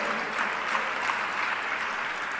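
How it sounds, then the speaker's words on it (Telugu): A church congregation claps hands together in praise during a fasting prayer service, a dense, even wash of applause held steadily throughout with no voices over it. "మరొకసారి చప్పట్లు కొట్టి దేవుని స్తుతిద్దాం."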